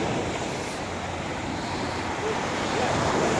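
Sea waves washing onto a beach, a steady loud roar of surf mixed with wind buffeting the microphone, continuous throughout with no break.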